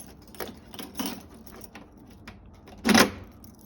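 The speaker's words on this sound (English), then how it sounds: "He got a lot of keys here" A big bunch of keys jangles in short metallic bursts, a few soft rattles followed by one louder shake near the end, in a quiet garage-like space during car floor work.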